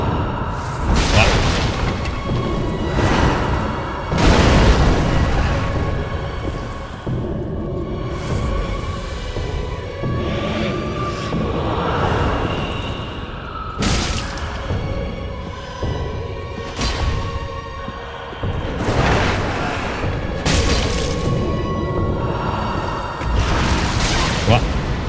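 Loud booming explosions erupt repeatedly in the Dark Souls video game, several heavy blasts spread through the stretch amid constant rumbling game noise, with someone talking over parts of it.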